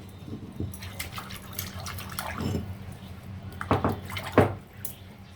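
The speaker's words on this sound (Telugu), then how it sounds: "ఈ వాటర్ కూడా మనం ఇలాగా కడిగి తీసేసుకోవచ్చు." Water sloshes and splashes while a stone grinding mortar used for gongura sesame chutney is rinsed, with irregular close pours and drips that swell toward the end.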